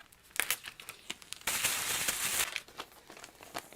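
Plastic packaging being sliced open with an earring, with close crinkling and crackling and a sustained rasping tear for about a second in the middle, then more rustling.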